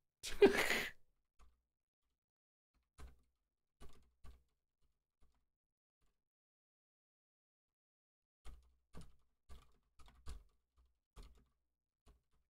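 A breathy sigh, then quiet, scattered computer keyboard taps in short bursts separated by long pauses.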